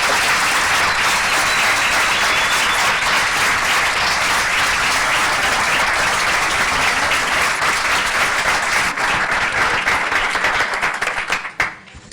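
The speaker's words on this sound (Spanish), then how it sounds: "Un aplauso para Iker." A live audience gives sustained, loud applause, dense continuous clapping from many people that holds steady for several seconds before tapering off and fading out at the end.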